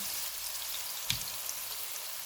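Onion and garlic frying in hot oil with cumin seeds in a pan, a soft steady sizzle with faint crackles throughout and one brief louder pop near the middle.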